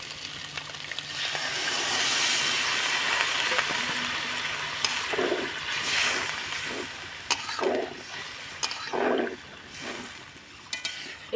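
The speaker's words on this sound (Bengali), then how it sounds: "আলুর সঙ্গে মশলাটা খুব সুন্দর করে কষিয়ে নিয়েছি এবার দিয়ে দিব আমি পরিমাণ মতন জল" Water goes into a pan of spiced potato curry, where a loud hissing sizzle swells and then settles into bubbling, and a few scraping stirs come in a loose rhythm close by, with no talk.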